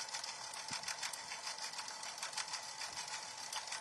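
An embroidery machine stitching a patch design at a slow speed gives a steady, rapid mechanical clatter of needle strokes, continuous and fairly faint, with no talking.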